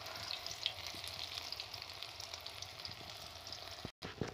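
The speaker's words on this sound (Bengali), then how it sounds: "এইভাবে ছোট ছোট করে আমি ছাড়বো আর ভালো করে নেড়ে চেড়ে ভেজে নেব।" Steady deep-fat frying sizzle of soybean pakoras, a dense crackling hiss that runs continuously with a brief dropout near the end; no voices.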